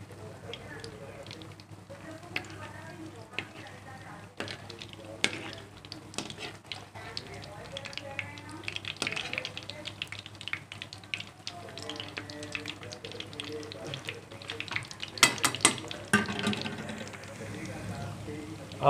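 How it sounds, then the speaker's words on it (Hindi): Bread pieces fry in a pan for rasgulla while being gently stirred, giving a soft continuous sizzle with scattered scraping clicks of the spoon that grow busier toward the end, under a person talking. "हम हल्के हल्के से इसको हिलाते रहेंगे।"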